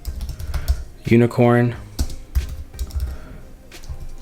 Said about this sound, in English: We're going to type in GUnicorn